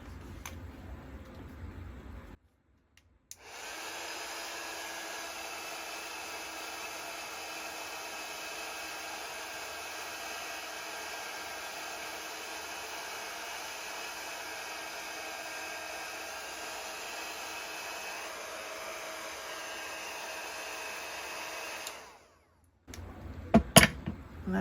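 A heat tool blows steadily while melting Ranger Distress Foundry Wax for a craft project, a continuous airy whir running close and loud for about twenty seconds, bracketed by brief quiet gaps and a few faint handling clicks at the end.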